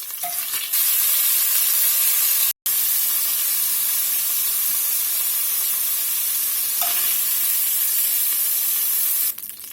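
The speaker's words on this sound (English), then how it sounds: "We'll get all this browned up real nice." Beef for a stew browns in a pot in batches, making a loud, continuous sizzle and spattering hiss that drops out for a moment partway through.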